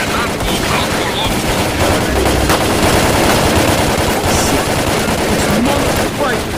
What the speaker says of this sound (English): taking heavy fire from an unidentified enemy